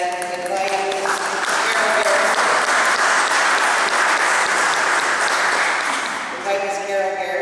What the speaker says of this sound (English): I'd like to give all the candidates that are here today a round of applause